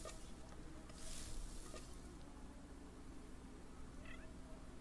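Faint cat meows in The Sims video game, a few soft calls over a low steady background hiss.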